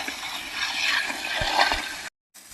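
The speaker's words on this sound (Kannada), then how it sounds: "ನೀರು ಬಿದ್ದು ಹೋಗ್ಬೇಕಲ್ಲ." Water streams and splashes steadily from holes in a bucket for about two seconds, then cuts out briefly before resuming.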